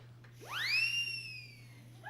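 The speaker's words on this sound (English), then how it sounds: "We have our siren whistle." A single whistle tone sweeps quickly upward and holds, then slowly fades, a rising siren-like wail played close with no voices.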